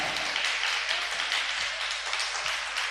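Loud, sustained clapping from a church congregation during a sermon, a dense steady wash of many hands with no voices over it.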